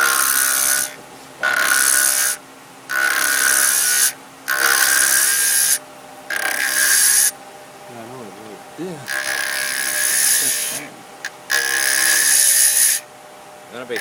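A router cutting a cove in a wooden box on a lathe-style setup with an eccentric chuck, heard as repeated loud high-pitched whining bursts of a few seconds each, separated by brief pauses, with a voice speaking between cuts.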